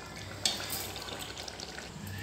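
Soybean sabzi frying in a pan, a soft steady sizzle and crackle with light stirring scrapes, close and moderately quiet.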